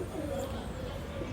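Pigeons feeding on grain, soft low cooing against a steady outdoor background hum, faint and continuous throughout.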